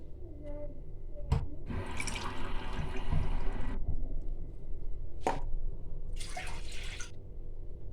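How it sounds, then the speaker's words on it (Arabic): A glass of water pouring into a large glass of milk, heard as two separate bursts of splashing liquid, close and moderately loud, set apart by sharp knocks of the glass. "غادي نزيد عليه كاس ديال الماء"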